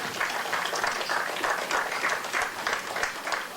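A crowd at a high school baseball game claps in a steady, moderately distant round of applause for the senior Mustangs players, continuous clapping without a break.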